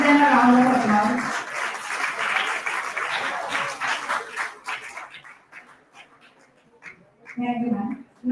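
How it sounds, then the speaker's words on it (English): Audience applauding at an academic conference session during a felicitation ceremony, a steady burst of clapping from many hands that thins out and fades, followed by a voice speaking near the end. "Give them a round of applause."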